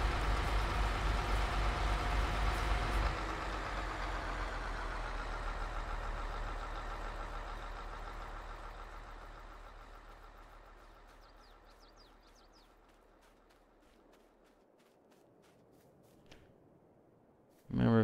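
A John Deere 8285R tractor engine in a farming simulator game, a steady low drone that fades gradually over the clip before a brief loud burst at the end.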